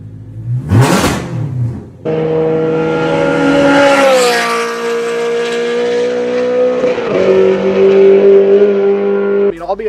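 A loud BMW E92 M3 track car engine revs hard and holds a high, sustained wail for several seconds after a brief burst, close and dominant throughout.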